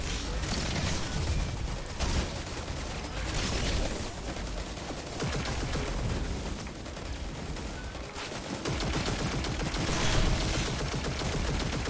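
Gunfire in the shooter Destiny 2, a steady loud stream of overlapping shots and bursts that carries on through the whole stretch with only brief dips.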